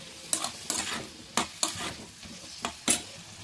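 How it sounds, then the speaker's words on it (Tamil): Eggplant and tomato sautéing in a pan for a peanut-eggplant stir-fry, with a steady sizzle broken by several sharp scrapes and stirring strokes of a spoon against the pan, close and moderately loud. "இப்போ இதில் கத்திரிக்காய் போட்டுக்கலாம். தக்காளி பாதி வதங்கினே கத்திரிக்காய் போடுங்க."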